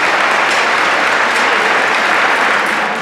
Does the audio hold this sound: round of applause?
yes